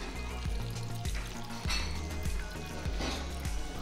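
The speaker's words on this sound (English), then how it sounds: "the onions are kind of cooking in the pot now as well" Onions and meatballs sizzle and fry together in a pot, a steady crackling bed broken by occasional clinks of a utensil against the metal, close and fairly loud with no talking.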